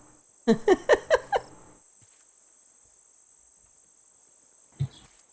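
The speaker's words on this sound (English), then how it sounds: "I can hear crickets on the island, but I've never seen any." Crickets chirping on an island in the survival video game Raft: a steady high-pitched insect trill runs throughout, joined early by a quick burst of about five short chirps and later by a single chirp.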